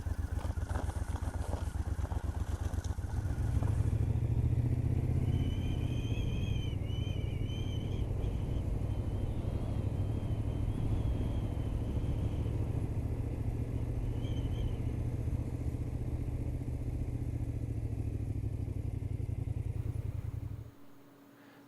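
A motorcycle engine starts up and settles into a steady ride, rumbling loud and close for about twenty seconds before cutting off abruptly.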